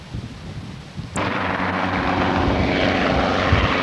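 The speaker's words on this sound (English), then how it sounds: "See the helicopter coming in there now." A loud, steady rotor and engine roar starts suddenly and holds, a helicopter coming in to land close by during a 1986 wildlife rescue operation in Malawi, with no voices.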